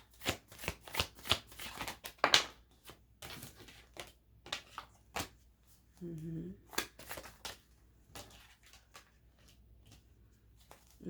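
A deck of tarot cards is shuffled again and again in quick papery riffles and slaps. Quiet pauses come between the bursts, and a faint voice murmurs nearby.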